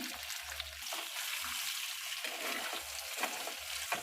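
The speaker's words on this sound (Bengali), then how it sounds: "আলুগুলোকে একটু ভেজে নেব। ফ্লেমটাকে এখন আমি একটু বাড়িয়ে দিলাম।" Parboiled potatoes sizzle steadily in hot oil in a pan over a raised flame, a continuous close frying hiss with occasional soft low bumps.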